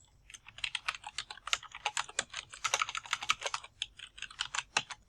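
Fast, steady typing on a computer keyboard, with dense clicking keystrokes close by and no voices over them.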